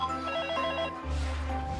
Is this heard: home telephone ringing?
yes